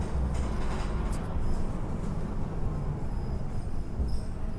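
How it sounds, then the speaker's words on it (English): Train station ambience at Penrith, Sydney, a steady low rumble of rolling stock and platform noise running throughout, loud and close with no clear speech. "Here's the train station."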